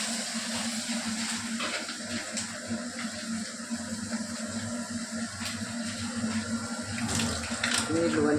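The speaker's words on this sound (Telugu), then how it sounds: "నీళ్ళు వంచేసుకొని" Water pours steadily into a hot pan of dal tempering with oil, turmeric, dried red chillies and garlic, a continuous close splashing rush that holds throughout with faint voices beneath.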